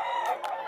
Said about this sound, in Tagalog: Yan, mga manok ngayon sa grotto.